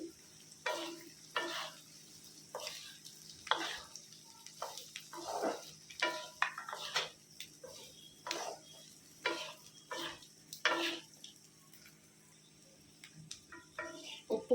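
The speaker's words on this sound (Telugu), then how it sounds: "ఇప్పుడు మనం కట్ చేసి పెట్టుకున్న అరటికాయ ముక్కలు వేసేసుకుందామండి" Raw plantain pieces frying in a pan, with stirring that scrapes and clinks in irregular bursts over a low background sizzle, close by and with no talking.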